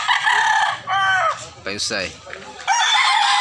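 A rooster crows several times in close succession, loud and near, at a farm in northern Cebu, with someone speaking briefly between the calls.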